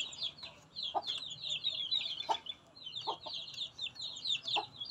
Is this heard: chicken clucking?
yes